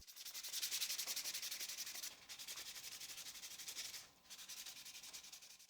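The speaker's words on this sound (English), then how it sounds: "The final sanding will be done with 400 grit sandpaper." Steady, rhythmic back-and-forth sanding strokes with 400 grit sandpaper on wood, close and fairly loud, with two brief pauses between passes.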